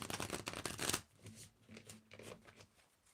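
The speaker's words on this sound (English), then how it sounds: "I can't riffle shuffle, but let's just try." A combined oracle and tarot card deck is riffle shuffled by hand: a dense, crisp flurry of flapping cards up close, then a few softer, scattered shuffles, with no talking.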